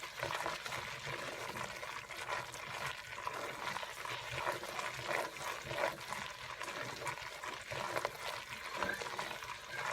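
Butter and flour roux cooking in a pan as gravy for chicken pot pie filling, giving a steady, soft sizzle and bubbling with occasional stirring scrapes throughout, no talking.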